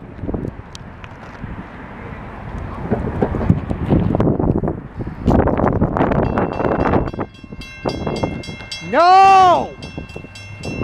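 A Norfolk Southern southbound grain train rolls past a crossing in Marion, Ohio, its steady rumble and wheel noise mixed with wind buffeting the microphone, then a loud, sliding horn blast near the end; a voice shouts once.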